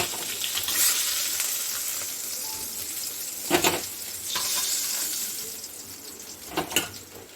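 Fish sautéing in hot oil in a home kitchen pan, a steady loud sizzle throughout with a few sharper crackling bursts and faint utensil clinks.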